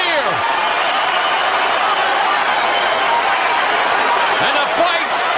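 Dense, steady roar of a large arena crowd at the Mayweather vs Pacquiao boxing fight, loud and continuous, with a commentator talking over it.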